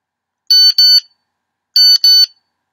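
A classroom timer buzzer goes off in two loud bursts, each a pair of short, harsh electronic beeps with a gap between, sharp and alone in otherwise silence.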